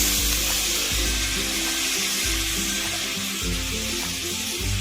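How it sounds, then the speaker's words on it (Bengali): Water poured into a pan of fried spice masala with poppy seed and melon seed paste, for a brinjal and fish curry, hissing in a steady loud sizzle with pulsing bubbling and stirring underneath. "মশলাটা কষানো হয়ে গেছে, এবারে আমি জল দিয়ে দিচ্ছি।"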